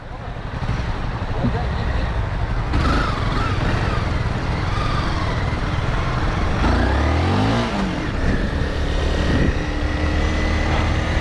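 A motorcycle engine revs while riding, a continuous droning roar with a rising-and-falling rev midway, heard close up beneath someone talking in Turkish.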